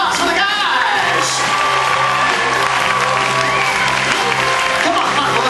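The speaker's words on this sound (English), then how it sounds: "How about a round of applause for the guys?" A cruise ship audience aboard the Carnival Liberty claps and cheers for the guys at a welcome show, with loud sustained applause and whoops filling the room while a host talks over it and music plays underneath.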